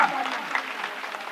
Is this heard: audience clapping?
yes